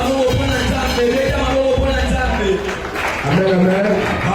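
Church congregation at a French-language worship event cheering and clapping for God, a loud crowd roar with clapping under a speaker's raised voice.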